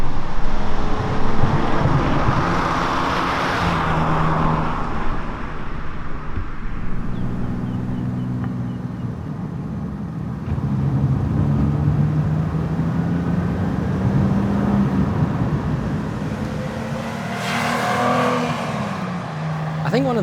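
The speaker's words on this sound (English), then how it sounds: "I drive a 1979 BMW E21 323i." A 1979 BMW E21 323i driving, its engine note running steadily throughout with shifts in pitch as it accelerates and changes gear, fairly close and loud, with someone talking over much of it.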